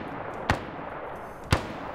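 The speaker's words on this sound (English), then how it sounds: "I think they're firing mortars" Two sharp, heavy blasts land about a second apart in a military video game, each a sudden broadband thump over a steady low wash of battlefield ambience, consistent with distant mortar fire.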